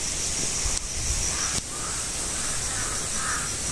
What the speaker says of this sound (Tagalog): balik-balik po yung ibong uwak